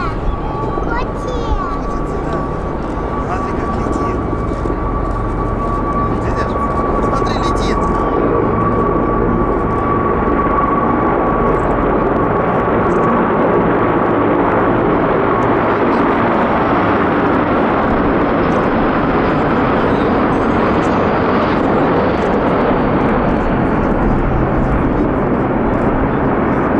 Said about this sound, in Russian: Смотри, вертолеты летят.